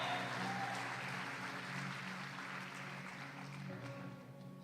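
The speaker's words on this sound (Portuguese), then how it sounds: "é uma linda salva de palmas ao Senhor" Congregation applause at a Friday miracle church service rises as a soft, continuous wash of clapping, somewhat distant and blended with the room's sustained musical hum, fading slightly toward the end.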